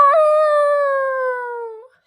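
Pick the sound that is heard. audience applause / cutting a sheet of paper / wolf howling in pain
wolf howling in pain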